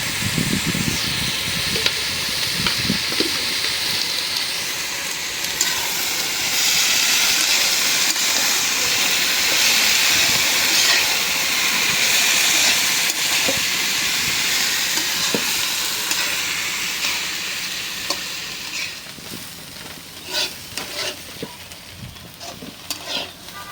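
Salted bitter gourd slices sizzling in a pan, a steady frying hiss that swells and fades, broken by scrapes and taps of stirring up close.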